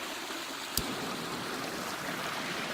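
A stream flows along a Pennsylvania hiking trail in autumn, a steady soft rush of water with one brief sharp tap partway through.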